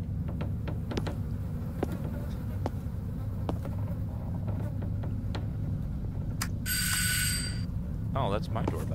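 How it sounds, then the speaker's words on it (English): A doorbell in an indie horror video game gives one brief, bright ring over a steady low hum scattered with soft clicks. "Oh, that's my doorbell."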